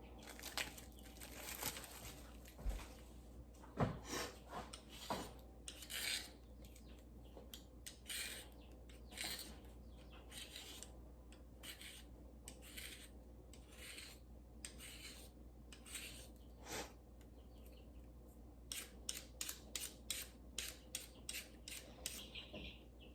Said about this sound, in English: And now we're just gonna peel the cucumber.